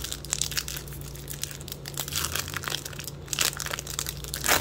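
A 2021 Topps Chrome trading card pack from a blaster box is torn open by hand, with close crinkling and crackling of foil wrapper in quick bursts and a sharp rip near the end.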